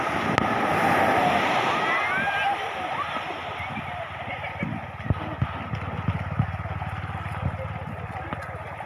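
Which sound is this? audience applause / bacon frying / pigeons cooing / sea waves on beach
sea waves on beach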